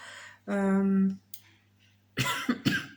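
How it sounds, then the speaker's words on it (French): A voiced sound is followed by a short pause, then a couple of sharp, close coughs in quick succession. "c'est la toux encore."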